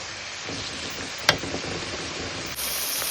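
Onions and tomatoes sautéing in a pan for a white cowpea gravy, a soft steady sizzle and hiss with one brief sharp clank of a utensil, close and continuous.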